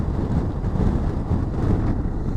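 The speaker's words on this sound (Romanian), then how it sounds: "Deci bate vântul de mă duc cârn, așa, înclinat câteva grade." Steady, loud wind buffeting the microphone while riding a motorcycle in Denmark, a low rumbling roar with gusty swells that never lets up.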